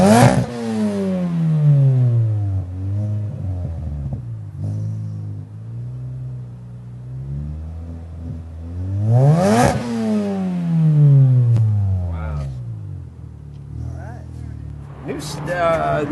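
A modified Mini Cooper engine starts and revs in several rising and falling sweeps, close and loud, with a steady idle between the revs and people talking nearby.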